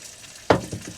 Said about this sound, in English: The sound of something frying and the smell is incredible.